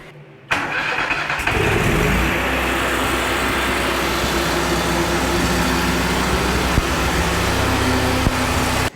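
A Toro ZMaster zero-turn mower's engine cranks briefly, then catches and settles into a loud, steady running drone that continues close by to the end, with no talking.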